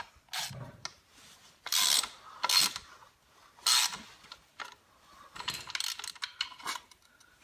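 Several short bursts of ratchet clicking as a skid plate bolt on a Suzuki DRZ400 motorcycle is worked back and forth and loosened, close and fairly quiet, with pauses between strokes.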